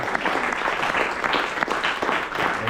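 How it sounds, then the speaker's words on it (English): A room of workshop attendees at a Toastmasters club session in Singapore claps together in a brief, even round of applause, moderately loud with no talking. "Let's give him a round of applause."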